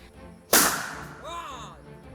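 A bamboo cannon fired to scare off wild elephants gives a single sharp, loud blast that bursts out suddenly, then rings and echoes away over a second or so against a quiet background.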